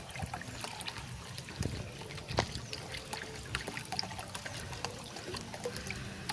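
Liquid cleaner is mixed into water for washing out an iron-clogged water tank and pipes, giving a steady soft trickling, sloshing wash throughout with no talk.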